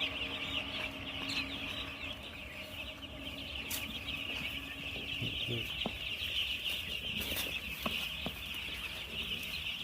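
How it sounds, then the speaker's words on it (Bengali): Broiler chickens cluck and call near and far in a steady, busy flock chorus, with a constant background hum. "দেখেন মুরগ কত সুন্দর বাইরে উঠতেছে মুরগ"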